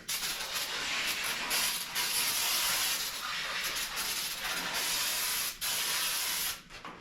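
Repeated bursts of hissing spray from a cleaner bottle, steady and close, broken by short pauses between squirts, while working on a Jeep Comanche truck bed.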